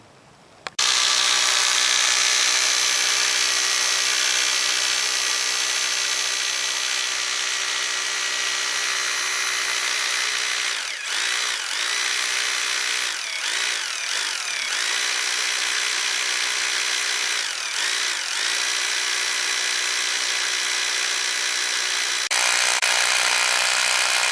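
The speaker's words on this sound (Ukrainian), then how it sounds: "Зараз ми спробуємо просверлити нашим сверлом." An electric drill with an SR bit bores into steel-reinforced concrete with 12–14 mm rebar, whining loud and steady for about twenty seconds with a few brief dips in load, close by and alone.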